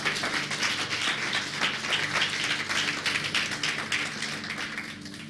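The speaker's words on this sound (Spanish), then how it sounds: "Dale un aplauso a Jesús." A church congregation applauds during a sermon with dense, sustained clapping that fills the whole stretch at an even level, with no speech over it.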